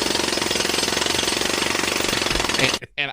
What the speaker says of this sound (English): Jake, that specific jackhammer noise, that one right there